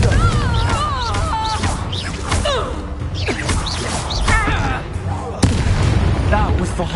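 A Confringo blasting spell erupts amid dense, chaotic combat in a Harry Potter video game, with bangs and crashes layered over swooping magical effects, one sharp burst standing out late.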